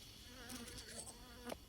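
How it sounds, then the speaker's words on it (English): Honeybees buzz around an established hive being moved, a faint, steady drone with several bees passing close in brief, louder whines against a quiet outdoor background. "very, very lovely bees"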